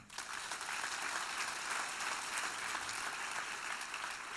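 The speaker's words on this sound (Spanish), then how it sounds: "Denle un aplauso al Señor." Steady applause from a large church congregation, dense clapping that stays even and sustained throughout without voices standing out.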